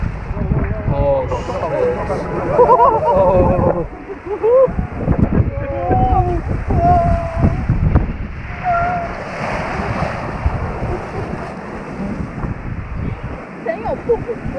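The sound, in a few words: rapids ride boat rushing through water, theme park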